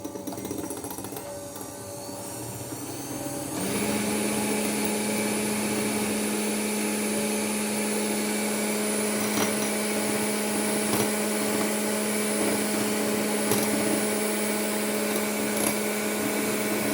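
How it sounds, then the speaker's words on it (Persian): An electric mixer whipping iced coffee with a little cold milk into foam: after a few seconds of quiet handling it switches on into a steady, close, whining motor hum with a buzzing tone that runs unbroken to the end. "در هم زدن."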